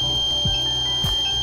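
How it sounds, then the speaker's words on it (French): A home alarm system's activation beep, a steady, high electronic tone, holds throughout, with two dull low thumps underneath. "Le système d'alarme est activé."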